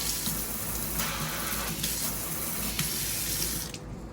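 Water runs steadily from a newly installed kitchen faucet into a sink, a loud, continuous splashing rush with slight surges, cutting off abruptly at the end.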